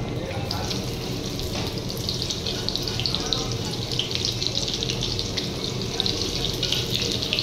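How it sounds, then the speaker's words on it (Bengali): Dry red chillies and chopped onion frying in hot oil in a pan, cooked outdoors at Digha beach for mutton kosha: a steady, close hiss and crackle of sizzling that continues without a break. "শুকনো লঙ্কা নিয়েছি, তেলের মধ্যে দিয়ে দিচ্ছি।"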